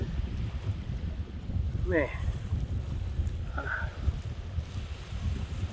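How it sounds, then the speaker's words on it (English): Strong wind gusts across a lake at Choke Canyon in Texas during a fishing trip, a steady rumbling rush buffeting the microphone throughout, with someone speaking briefly over it. "It's super windy right now."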